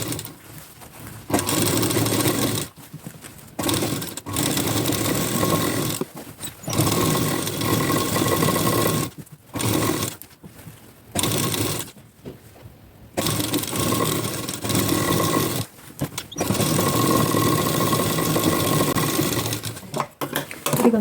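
A sewing machine stitches a plain blouse in bursts of rapid, even whirring, stopping and restarting several times with short quiet gaps between runs.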